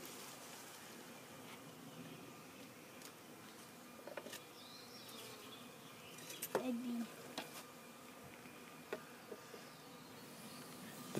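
Honeybees hum in a low, steady drone around an opened package of about ten thousand bees, close and continuous, with faint scattered clicks and knocks and a brief rising tone partway through.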